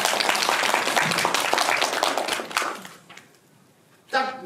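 An audience claps together in brisk, dense applause that thins out and stops after about three seconds, followed by a brief voice near the end.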